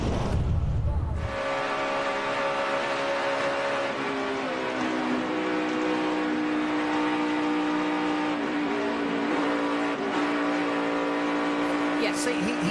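A race car engine in a 2011 NASCAR 250 race revs hard on the throttle, climbing and holding a loud sustained whine after a brief burst at the start, with a commentator's voice faintly under it.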